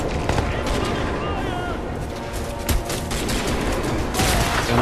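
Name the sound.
dropship gunfire in Crysis 2 video game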